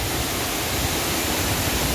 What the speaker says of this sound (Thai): น้ำก็จะไหลกระโจนลงมาแบบนี้